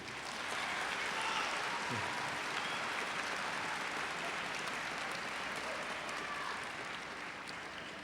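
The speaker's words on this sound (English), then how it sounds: "let's give these very important people in your lives a nice round of applause" Sustained applause from a commencement audience at a high school graduation ceremony, honoring families and teachers; a dense, steady wash of clapping that fills the whole stretch at an even level.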